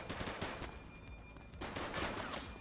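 Gunfire in a police video game, with two rapid clusters of shots: one short volley at the start and a longer one near the end, both fairly quiet and distant.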